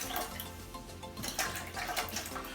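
Water is poured over dried beans in a bowl to soak them for chili, a soft continuous splashing and trickling stream heard close and fairly quiet with no voices.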